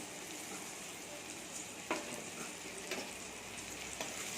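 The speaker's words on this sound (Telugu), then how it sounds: "ఇప్పుడు ఇందాక ఫ్రై చేసి పెట్టిన బీన్స్ వేద్దామండి" Fried beans going into a tomato fry sizzle softly in a pan, with a continuous low frying hiss and a few faint scrapes of stirring; quiet and close, with no talk.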